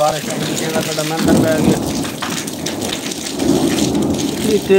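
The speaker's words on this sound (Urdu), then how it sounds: "بہت تیز بارش بھی ہے جو آئی" Heavy rain pounding down during a thunderstorm, with rolling thunder rumbling in low surges, a dense close hiss of drops on surfaces throughout, and voices faintly beneath.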